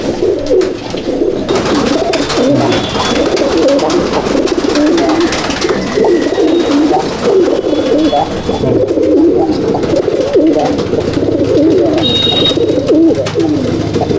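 Teddy pigeons imported from Pakistan coo steadily and close by, a dense, continuous chorus of overlapping low calls from a loft breeding pair and others, with faint voices in the background.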